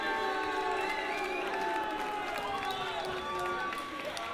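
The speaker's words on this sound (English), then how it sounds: "Ladies and gentlemen, give him a big, big round of applause one more time." A boxing crowd at a fight night, Thriller at the Mill, applauding and cheering a boxer, a steady dense wash of clapping and crowd noise with tonal sounds running through it for the whole moment.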